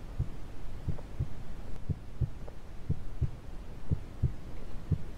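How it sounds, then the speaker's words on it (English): A video game heartbeat sound effect in The Tape thumps in slow, evenly spaced double beats over a low hum, moderately quiet and alone. "Where's that heartbeat coming from?"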